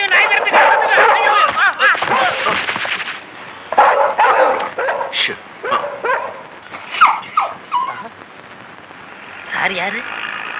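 Dog barks and whimpers in a Tamil movie comedy scene, mixed with frantic shouting voices crying for help; the animal sounds come in short bursts scattered among the loud talk.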